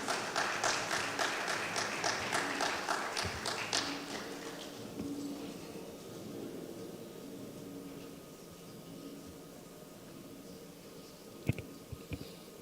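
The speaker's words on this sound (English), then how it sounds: "Let's keep clapping so he gets to the mic." Applause from a conference audience at a money summit, dense clapping for the first four seconds, then thinning out to scattered claps and room murmur.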